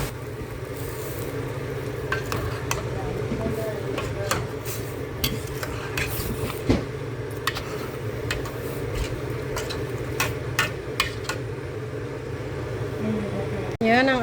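A spoon stirs a pot of boiling chicken caldereta with garbanzos and green peas, giving scattered clinks and scrapes over a steady bubbling, simmering bed, with brief voices near the end.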